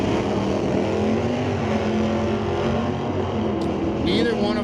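A Volkswagen GTI and a 1996 Chevrolet Camaro launch side by side at an NHRA Canadian Sportsnationals divisional qualifying drag race, a loud, steady engine roar filling the air with an announcer talking over it.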